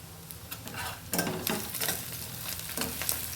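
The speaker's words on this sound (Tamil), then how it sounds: "வெங்காயம் வந்து இந்த அளவுக்கு வதங்கிடுச்சு" Onions sauté in a pan for vathal kuzhambu, a tamarind curry made with sun-dried berries, giving a continuous close sizzle with several louder bursts of spatula stirring and scraping. There is no speech.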